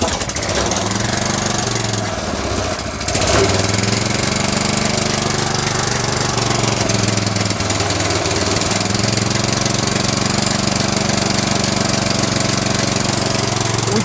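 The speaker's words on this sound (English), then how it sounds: "Now I want to start the machine so that we start cutting the napier." A biogas-fuelled engine on a chaff cutter for napier grass starts and keeps running, a loud continuous chugging drone with a brief dip early on, then settling into a steady idle with no speech.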